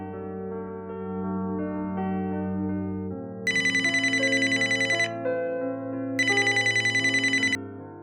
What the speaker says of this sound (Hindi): आरती को फोन करता हूँ।